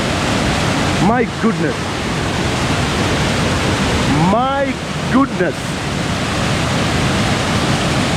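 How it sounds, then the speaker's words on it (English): Nabuyole waterfall in Webuye, Kenya, water rushing down with great force as a loud, continuous broadband roar, with a voice briefly exclaiming over it. "Look at the sheer force of the water."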